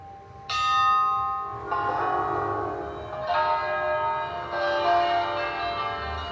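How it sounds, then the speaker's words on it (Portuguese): Church bells in Brazil ring out for the election of a new pope in several loud, resonant strikes, each tolling chime lingering and overlapping the next. "Os sinos tocaram pontualmente em várias igrejas do país."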